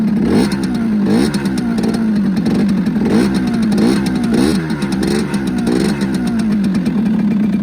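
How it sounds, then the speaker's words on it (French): A 2020 Rieju MRT Pro motorcycle with a poorly held idle being revved, its engine rising and falling in repeated loud rhythmic bursts, close up and alone. "Elle tient pas très bien le ralenti aussi. Je vais un peu accélérer."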